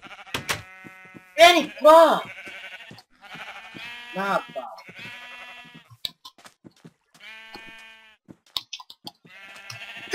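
Sheep bleat in the Minecraft video game while animals are herded toward a stall, several sharp wavering cries in short bursts alongside clicks, with someone talking over them.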